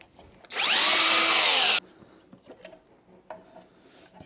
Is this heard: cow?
no